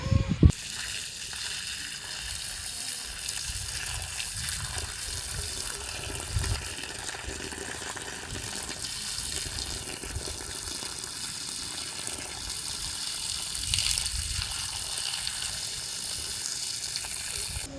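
Water is poured off settled homemade clay in a bucket, a steady running, splashing pour that continues through the whole stretch at moderate loudness with no speech.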